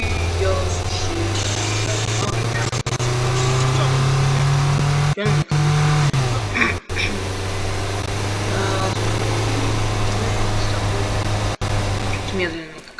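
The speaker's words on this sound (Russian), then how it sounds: "Вот на машине сел и поехал." A car engine drives steadily in the physics game Teardown on a Russia map, a loud continuous low hum that rises in pitch briefly mid-way, with voices over it.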